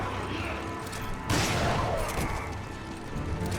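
A sudden loud burst of gunfire and clattering noise cuts in over a busy background in Resident Evil 5, followed by scattered softer shots and mechanical sounds.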